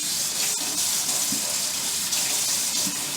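Tap water runs steadily from a faucet to rinse a ladle, a continuous loud hiss and splash with no pauses, close to the listener.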